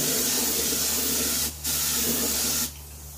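Spray paint hisses steadily and close up as the inside of a garden tractor wheel is coated with the tire still mounted, the hiss breaking off twice briefly between passes.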